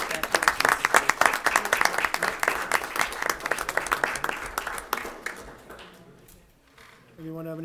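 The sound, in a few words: audience clapping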